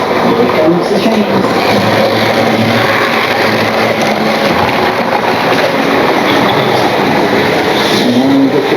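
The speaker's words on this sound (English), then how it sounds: "Here comes the train." A small model railway train rumbles steadily along its track, a continuous close clatter with a fine rhythmic ticking, running without pause throughout.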